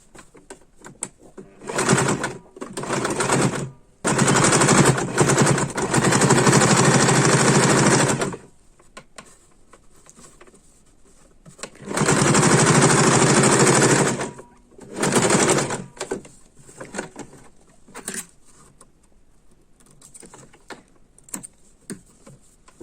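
A sewing machine stitches patchwork (kurak) pieces together in bursts of steady, fast mechanical whirring. There are two long runs and several shorter ones, with quiet pauses between them and no speech.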